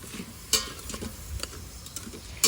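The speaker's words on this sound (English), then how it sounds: "I want a lot more of that chili powder in there. Give that a stir." A spoon stirs chili powder and spices sautéing in an Instant Pot, giving soft scraping strokes and light sizzling with a few sharper clicks against the pot, close and fairly quiet.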